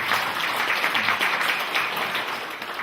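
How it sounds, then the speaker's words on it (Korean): Sustained audience applause at a cultural lecture gathering, dense steady clapping from many hands that carries evenly through the whole stretch. "목사님께 또 박수."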